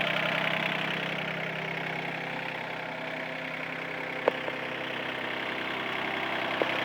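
A small diesel engine on a truck-mounted King Lifter forklift idles steadily and close, a continuous even rumble with a couple of faint clicks and no talking.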